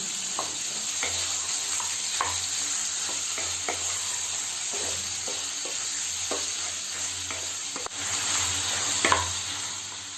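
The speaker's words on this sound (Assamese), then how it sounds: "মাংসখিনি মই ভালদৰে লৰাই প্ৰায় 10 মিনিটমানৰ বাবে মিডিয়াম ফ্লেমত থৈ দিলোঁ" Pork sizzles steadily in a hot wok over a medium flame while a utensil scrapes and stirs it in irregular strokes, close up with no talking.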